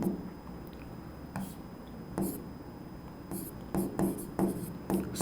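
Chalk or marker strokes writing a chemical formula on a board, heard as a series of short scratchy taps and squeaks in uneven bursts, fairly close, with no talking over them.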